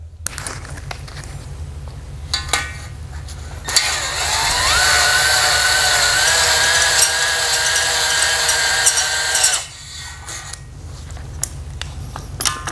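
A power tool hones the cylinder bores of a Chrysler Hemi 5.7 engine from a 300C, a loud, steady grinding whir that starts abruptly, holds with a slowly rising tone for about six seconds, then stops, with lighter handling clatter before and after.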